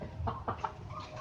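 Ayam Kampung Unggul Balitnak (KUB) village chickens in a coop give three short, soft clucks in quick succession, faint and close against a quiet background.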